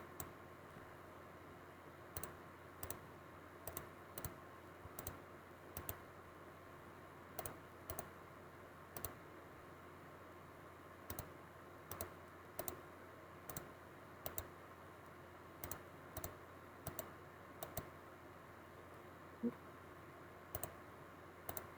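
Typing a math formula on a computer keyboard: sparse, evenly spaced individual key clicks, quiet and close, over faint background hiss with no talk.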